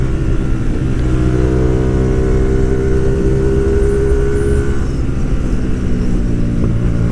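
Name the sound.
Hyosung GTR250R motorcycle engine revving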